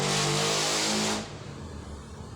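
A Toyota Vios engine, fitted with new cylinder sleeves and being checked for persistent smoke, revs hard for about a second then drops back to a low idle rumble.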